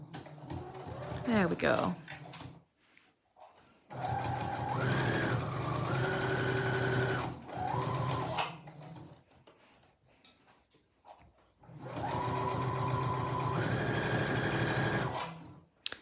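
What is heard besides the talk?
sewing machine stitching a draft excluder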